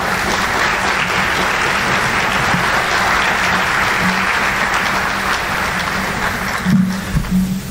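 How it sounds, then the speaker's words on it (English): An audience at a high school academic awards program claps in a sustained, dense burst of applause that runs steadily and eases slightly near the end, with no voices over it. "You can clap."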